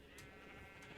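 Sheep on a Minecraft sheep farm bleat softly, a faint wavering baa heard at low volume.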